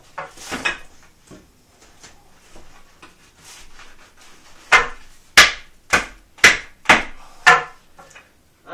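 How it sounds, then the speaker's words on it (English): Glued wooden dowels of a flat pack bunk bed being struck by hand, a series of sharp close knocks, with quieter thumps and fumbling first, then six loud evenly spaced hits. "I shouldn't be hitting that with my hand."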